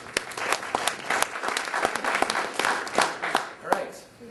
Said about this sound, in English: Let's give her a final round of applause.